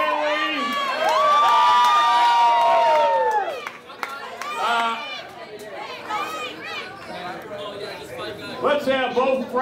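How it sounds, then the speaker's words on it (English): A crowd at a salsa party awards night cheers and whoops for a best-dressed contestant. Loud, close cheering peaks in the first few seconds, then fades into scattered shouts and lively chatter. "I'm not sure about which one of those got the greater applause."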